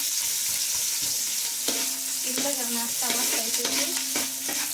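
Onions and green chillies frying for biryani, a constant loud sizzle with stirring scrapes and clinks against the pan throughout, close up and with no talk.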